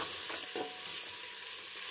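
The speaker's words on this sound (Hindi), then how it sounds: "हमको हल्का सा भूनना है।" Onions frying lightly for mutton curry make a soft, even sizzle with a few stirring scrapes near the start, close and fairly quiet, without speech.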